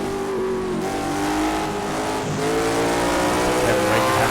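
Late model stock cars racing around Hickory Motor Speedway, engines droning loudly and steadily as they run through and off a turn, with a commentator talking faintly underneath.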